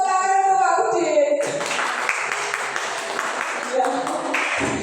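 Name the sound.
applause for Pak Udin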